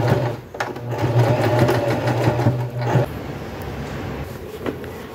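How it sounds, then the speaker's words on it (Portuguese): A sewing machine runs a zigzag stitch around a denim pocket on a jeans bag, buzzing steadily and close for about three seconds, then stopping amid quieter handling noises. "Venho pra minha máquina e vou costurar."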